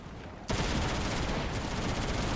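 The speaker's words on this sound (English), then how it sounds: "It doesn't really have any recoil. It's like a gentle sniping" A single sharp rifle report from a sniper weapon in the shooter game Enlisted cracks out after a quiet moment, followed by a long dense rumbling tail of distant battlefield gunfire and explosions.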